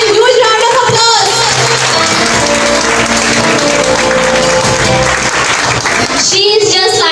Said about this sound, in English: Let's welcome and Sadia in huge round of applause.